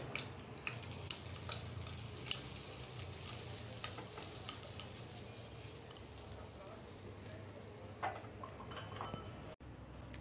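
Hot ghee is poured into flour, giving a faint sizzle and crackle with occasional clinks of utensils against the pot, quiet and close.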